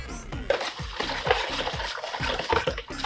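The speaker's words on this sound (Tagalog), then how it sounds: "Gagawin nyo po is, hahaluin nyo po siya." A spoon stirring salt into water in a bowl for salted eggs, a close, steady run of scraping, clinking swirls repeating about every half second.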